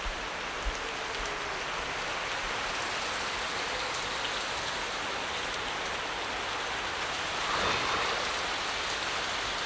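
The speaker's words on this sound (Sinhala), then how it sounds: "අදත් ඔන්න උදේ ඉඳලම වහිනවා" Steady rain falls all around on a wet day in Sri Lanka, an even, dense hiss of drops on surfaces that holds throughout, with a slight swell near the end and no talking.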